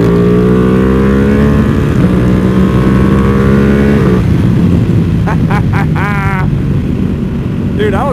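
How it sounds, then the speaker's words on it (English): A Ducati V2 Bayliss with an Akrapovic full exhaust revs loudly and close, its engine pitch climbing and then dropping back amid steady wind and road noise, with a brief burst of rising revs near the end. "Let me hear a little twist of the throttle."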